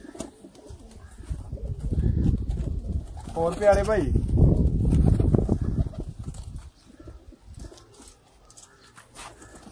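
Sialkoti pigeons on a rooftop coo softly and repeatedly while someone talks over them through most of the stretch, with the birds' murmuring continuing faintly once he quiets.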